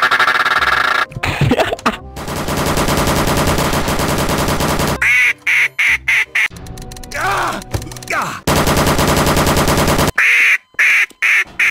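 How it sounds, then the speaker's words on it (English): Duck quacking played from a soundboard in a Garry's Mod DarkRP game, loud repeated quacks in bursts and long runs, mixed with harsh gunfire-like noise and brief gaps of silence. "he's doing just the duck sound"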